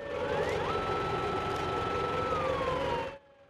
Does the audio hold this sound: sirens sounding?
yes